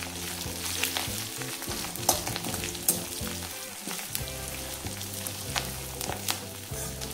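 Cumin and fennel seeds fry in hot oil for murmura chivda, a soft continuous sizzle with light crackles and scraping stirs, close up and quiet.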